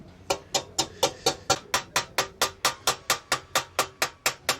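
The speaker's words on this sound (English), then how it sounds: "by using this ball-peen hammer, this rounded end sort of persuades the metal and sort of mushrooms it out and flares it out" A ball-peen hammer strikes soft aluminium rivets in a repair workshop, giving about nineteen sharp metallic taps in a steady, even rhythm, close and clear with no talking.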